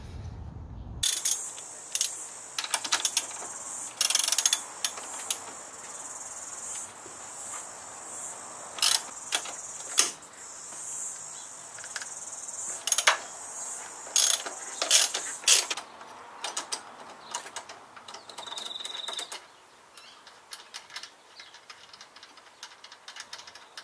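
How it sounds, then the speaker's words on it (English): A ratchet backs off two 17mm nuts from the strut bolts on an Alfa Romeo 147 GTA, close, crisp pawl clicking in repeated irregular bursts with quiet gaps and small metallic clinks, no voices. "we've removed the two 17mm nuts on these bolts"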